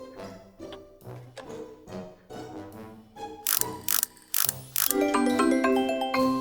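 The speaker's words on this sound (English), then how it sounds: "A screwdriver helps us turn the screw. Let's get this handle back on nice and tight." Screwdriver tightening a screw on a pan handle in a children's cartoon workshop, a series of rhythmic ratcheting clicks building into a bright, musical flourish at the end.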